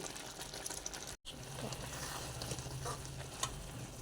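Semiya kesari, sweet vermicelli cooked with cashews and raisins, is stirred in a pan on the stove, giving a close, soft sizzle and scraping with a quiet bubbling underneath.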